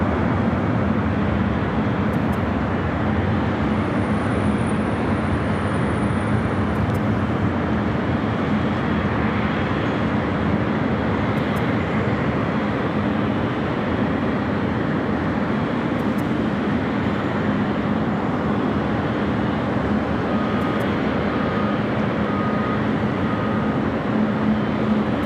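Jet airliners taxiing toward the runways at Los Angeles International Airport, a steady broad engine roar and whine lasting throughout, fairly distant and unbroken, with no one speaking.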